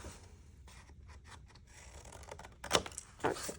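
Scissors cut the corners of folded paper for a handmade craft kit: soft rustling handling, then two sharper, louder snips near the end, with no talking.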